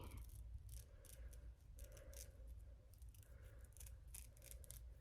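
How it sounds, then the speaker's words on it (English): Small scissors snip away excess lace from a glueless pre-plucked closure wig in a steady run of quick, close, crisp cuts, fairly quiet against a low background hum. "I'm just gonna cut, you know, a little bit more, cause Leaving all that lace on there is crazy to me."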